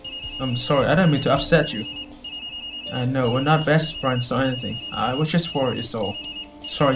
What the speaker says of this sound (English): Yumi, that's my phone.